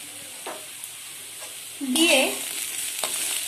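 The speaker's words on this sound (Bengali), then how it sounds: "1 মিনিটের মতো নাড়িয়ে নেব" Snake gourd frying with a spoonful of roasted cumin in a pan, stirred with a soft scrape and a brief louder sizzle midway, a faint voice speaking briefly.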